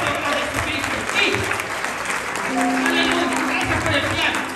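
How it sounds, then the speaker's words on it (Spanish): Congregation applauding in a church service, a steady wash of clapping from a crowd indoors, with voices and a sustained tone mixed underneath. "Aplausos a Jesucristo."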